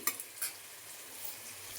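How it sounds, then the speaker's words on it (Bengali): Peas and capsicum being stir-fried for fried rice: a soft, steady sizzle with a couple of brief scraping stirs near the start, fairly quiet and close, with no talking. "তারপরে তোমার মটরশুঁটি আর ক্যাপসিকামটা ভাজছি"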